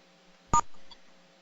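Phone keypad tones for star six to unmute on a conference call: one short, loud electronic beep, then a fainter tone, against a quiet line.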